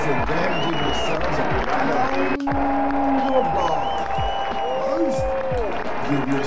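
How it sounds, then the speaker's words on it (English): Students clap and cheer for themselves after a music lesson, a steady crowd of applause with scattered whoops and voices talking over it throughout. "Go ahead and give yourselves a round of applause."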